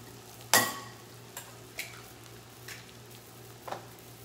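Coconut butter melts over medium-low heat in a pan, giving a faint, steady hiss with a few scattered light clicks and taps of a utensil, close and quiet with no speech.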